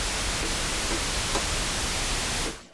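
Steady pink noise from an ARP 2600 synthesizer's noise generator hisses evenly, a dense broadband wash with a slightly heavier low end, cutting off abruptly at the end.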